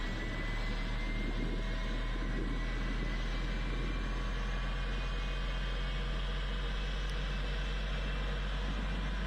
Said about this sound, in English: Start the second engine. Right, engine starting.